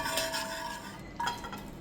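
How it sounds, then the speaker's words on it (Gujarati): Ragda is stirred with turmeric and chili in a pan, soft scraping of a spoon against metal with faint sizzling underneath, brief and close with no speech. "આની અંદર રગડાને એડ કરી લઈશું અને સરખી રીતે મિક્સ કરી લઈશું."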